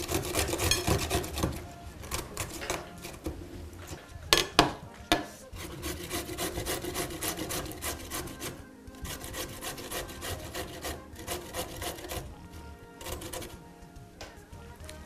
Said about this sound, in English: So I finished grating the pickle.